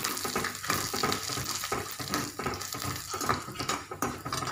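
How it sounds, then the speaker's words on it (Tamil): Lentils and dried buttermilk chilies roasting in a pan, a busy rustling and crackling with rhythmic stirring scrapes, close and moderately loud throughout, no voices. "பாதி வறுபடும் போதே இந்த மோர் மிளகாயை சேர்த்துடலாம் அப்போ தான் அந்த பருப்பு வறுபடவும் மிளகாய் வறுபடவும் சரியாக இருக்கும்"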